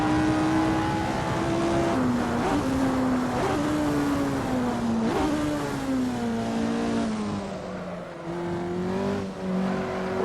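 A Lotus 49 race car in the Assetto Corsa racing game, driven on an out lap, its engine droning loud and close with a steady tone that rises and falls through gear changes and throttle shifts.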